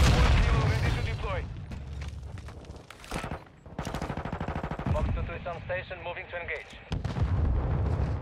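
Mortar strikes thump and boom in the Call of Duty: Modern Warfare 2 video game, with a series of explosions and gunfire bursts mixed with in-game radio voices and player talk.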